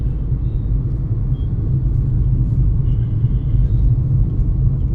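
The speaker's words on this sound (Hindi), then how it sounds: "तो ये है दिल्ली की ट्रैफिक" A Delhi road in a traffic jam gives off a dense, continuous low rumble of idling and creeping cars and engines, close and steady, with faint higher vehicle sounds on top.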